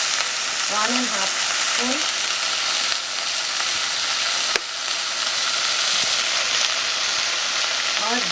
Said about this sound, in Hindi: क्योंकि हम इसमें अभी मसाला डालने जा रहे हैं।